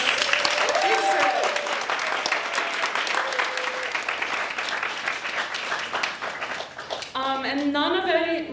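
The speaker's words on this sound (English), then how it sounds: "can we take a moment and give them a round of applause?" Audience applause for autism appreciation panelists at a livestreamed panel event, a steady loud wash of clapping lasting throughout, with speech and voices mixed in over it.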